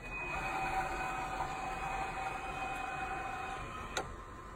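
A BMW concept car's steering wheel retracting as autonomous mode engages, heard as a steady motorized whir with a thin electric whine, ending in a brief click near the end; no talking.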